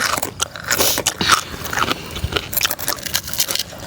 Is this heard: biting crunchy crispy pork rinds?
yes